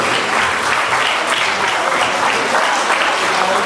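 Sustained applause from an audience of families at a school community event, steady dense clapping with no talk over it.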